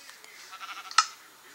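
Sheep in a video game gives a short, nasal bleat, a single close cry that peaks and trails off quickly, preceded by faint soft rustling.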